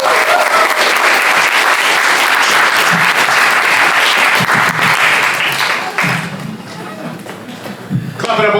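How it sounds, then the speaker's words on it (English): A studio audience at a live show applauds for a performer named Ethan, loud and dense for several seconds before thinning out into a few scattered claps and shuffles, with voices mixed in. "Clap it up one more time for Ethan!"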